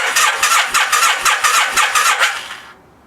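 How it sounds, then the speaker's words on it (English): An engine left sitting in a shed for 22 years cranks over on a better pair of jumper cables, with a close, loud, rhythmic starter churn of about ten even pulses that stops abruptly without firing. "Now it cranks over."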